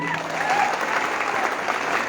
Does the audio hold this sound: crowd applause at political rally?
yes